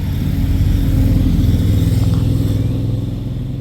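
Motorcycles roll past a stopped Lotus Elise S, a loud, steady engine drone that swells and fades slightly as they go by, with no talk.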